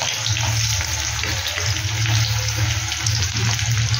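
Onion goes into hot oil with panch phoron and fries with a loud, steady, close sizzle that holds without a break.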